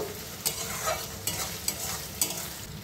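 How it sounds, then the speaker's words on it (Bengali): Ginger-garlic paste frying with onions in a pan for chicken pulao: a continuous sizzle broken by about four regular, crisp scrapes of a spoon stirring, close up, with no talking. "আদা রসুন বাটা দিয়ে 2 মিনিট আদা গন্ধটা যাওয়া অবধি ভেজে নেব"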